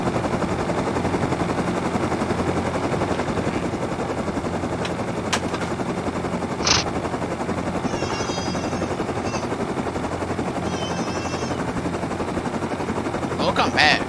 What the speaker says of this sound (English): That big helicopter's coming.